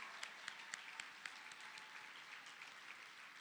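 Steady, fairly faint applause from a crowd at a high school merit assembly, with a few sharper claps standing out early on.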